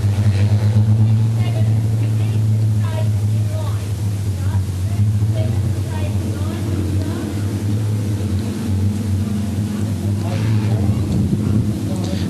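Street stock race cars roar around the track on a restart, car number 10 among them, with a constant blended engine drone and wind buffeting under continuous commentary.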